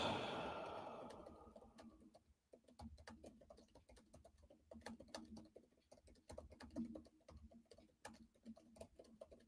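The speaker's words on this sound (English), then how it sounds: "let me just type this message" Computer keyboard being typed on for a message, quick close-up key clicks in uneven bursts after a short breathy sigh at the start.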